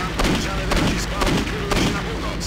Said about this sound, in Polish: Ile strzałów ja musiałem oddać z pistoletu, żeby on zginął?